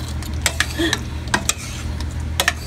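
Minced pork and winter melon are stirred in a pan with a spoon, producing several sharp metallic scrapes and clinks over a soft low sizzle and a steady background hum.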